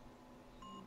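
A phone timer gives a short, faint electronic beep near the end over a quiet room background, with no talk during the clip.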